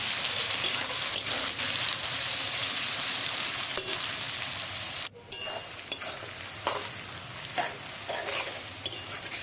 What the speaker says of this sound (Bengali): কুচনো পেঁয়াজ দিয়ে দিলাম। পেঁয়াজটা বেশ লাল লাল করে আমি ভেজে নেব।